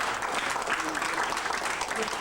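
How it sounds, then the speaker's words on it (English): An audience at an Umoja Karamu gathering gives Dr. Hardiman another warm round of applause, a steady, full crackle of many hands clapping that continues without pause for the whole moment. "I'd like for all of us to give Dr. Hardiman another warm round of applause"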